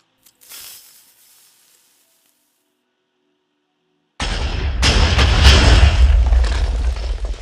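TNT blast from a potato-spawning trap in a modded Minecraft farming game, a sudden loud, broad roar that erupts after near-silence and rumbles on for several seconds.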